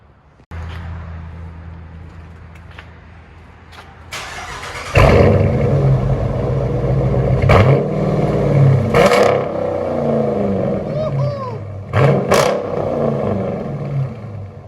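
A deep, burbly 2019 Dodge Challenger R/T HEMI V8 with Dynomax Race Bullet dual exhaust idles, then fires up louder with rough, rumbling exhaust and a few sharp revs, close by.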